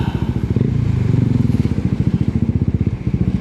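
A motorcycle engine chugs at low revs up close, its loud rapid rhythmic putter laboring steadily without any talking.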